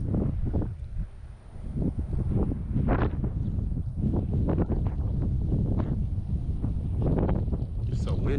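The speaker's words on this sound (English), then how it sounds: "It's so windy out here, too." Strong wind buffets the microphone outdoors on the water during a bass fishing trip, giving a loud, steady rumble with gusty surges throughout.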